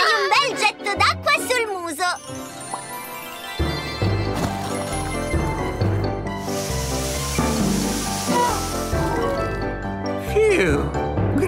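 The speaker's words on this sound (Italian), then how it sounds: "spruzzagli un bel getto d'acqua sul muso" A cartoon elephant sprays a jet of water in an Italian children's animated scene, a steady hissing splash heard under background music and character voices.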